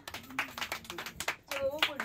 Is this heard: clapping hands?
yes